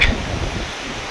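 A brief, loud blast of wind on a Himalayan mountain ascent rushes and rumbles against the microphone, easing slightly after a sharper gust at the start.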